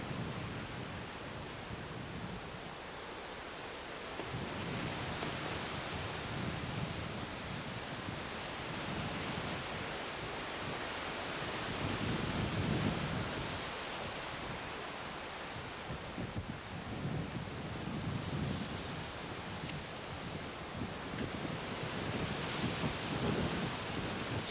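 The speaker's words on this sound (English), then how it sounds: "Still a little windy out today." Steady outdoor wind by the Sanibel River in Florida, a broad, continuous rushing roar that swells and eases in slow gusts for the whole stretch, with no voices.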